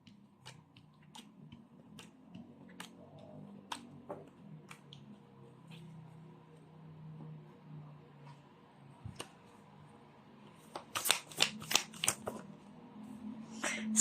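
Tarot cards are handled and shuffled close by, with sparse soft ticks and taps that build into a quick burst of riffling flutters near the end.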